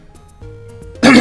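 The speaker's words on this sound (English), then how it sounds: "Just wanted to clear my throat there." Near the end, a man gives a single short, forceful throat clear, close to the microphone and loud after a near-silent stretch with faint background tones.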